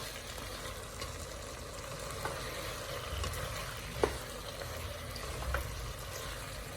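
Flour slurry frying in a beef stir fry, a steady soft sizzle with faint crackles and an occasional light clink of stirring, continuous and fairly quiet throughout.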